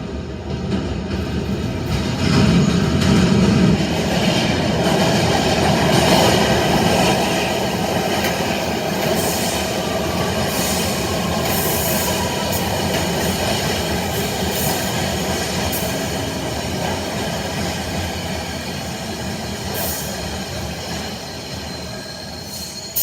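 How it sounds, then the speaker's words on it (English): New York MTA downtown local 6 subway train rumbling steadily along the track with wheel squeals and clacking, a continuous loud roar that slowly eases over time. "Downtown, local 6, train to Brooklyn Bridge City Hall."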